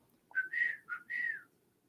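Someone whistles a short four-note tune in an episode of The Falcon and the Winter Soldier, clear, bright and close, alone against quiet background.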